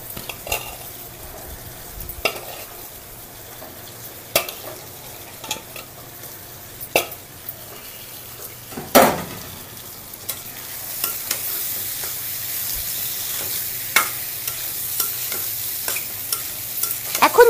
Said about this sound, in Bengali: এখানে আমি সেদ্ধ করা কলিজার টুকরোগুলো দিয়ে দিচ্ছি